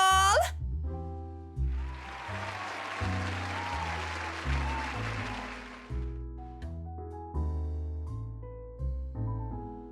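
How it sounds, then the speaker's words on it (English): Applause in the video game The Letter swells for about four seconds after a song over a steady plucked musical backing, a mid-level burst of clapping that fades out as the music carries on. "A round of applause!"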